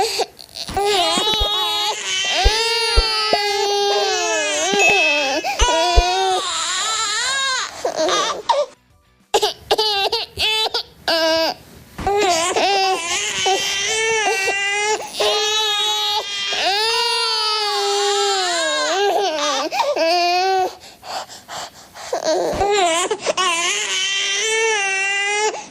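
Recording of a baby crying played loudly during a live stream, with long wailing sobs and whimpers broken by brief pauses and laugh-like squeals, continuing throughout.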